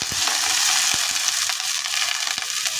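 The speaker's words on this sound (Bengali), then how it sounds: "দিয়ে ভালো করে ভেজে নিচ্ছি।" Onion and green chili fry in a pan with a dense, steady sizzle, crackling throughout and punctuated by occasional soft knocks of stirring.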